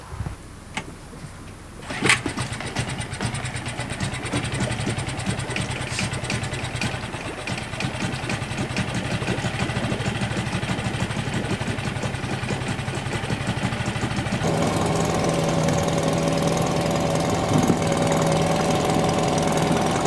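A sailboat's inboard engine settles into a steady, loud mid-pitched idle after a brief start-up burst, with the running note shifting slightly partway through and staying close and continuous throughout.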